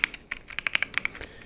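Fingers type on a wireless computer keyboard, a quick irregular run of close, crisp key clicks in a quiet room, with no talking.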